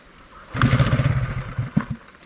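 Honda CB twin motorcycle engine catches and runs with a rough, throbbing idle as the throttle is blipped, loud and close, with a couple of sharper clanks near the end before it settles.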